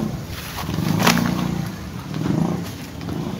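A vehicle engine passes nearby in two swelling waves, rising and fading around a low rumbling drone, moderately loud against quiet surroundings near an abandoned house.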